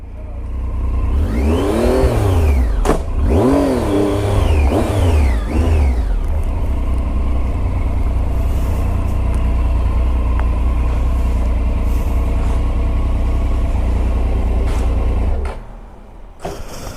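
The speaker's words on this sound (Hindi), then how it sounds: "गाड़ी की आवाज सुन के दरवाजा खोला है।" Car engine approaching and revving on arrival, with rising and falling engine sweeps over a loud steady rumble that holds close before cutting off near the end.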